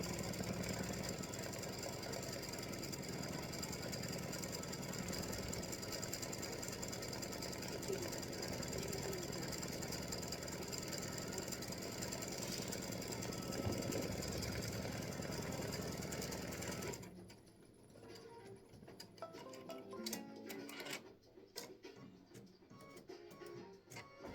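An embroidery machine stitches freestanding lace acorn earrings, a loud, fast, steady mechanical chatter of needle strokes that stops abruptly near the end, leaving quieter handling clicks and faint room noise.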